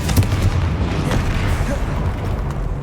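Blasting curse cast in the Hogwarts Legacy video game, a dense booming explosion-like burst that rumbles loudly and steadily throughout without a clear break.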